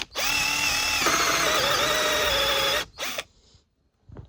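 Power drill with a Bosch titanium bit boring into wood: a loud, close, steady whine lasting nearly three seconds, dropping slightly in pitch partway, then a short second burst before quiet.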